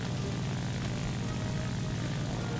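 A La-7 fighter's piston engine drones steadily in War Thunder, a continuous, dense, throaty roar with no break, heard alone.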